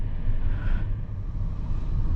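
A 2023 Nissan Kicks VL e-POWER accelerates, giving a steady low drone and road rumble inside the cabin that swells slightly mid-clip, with no talking.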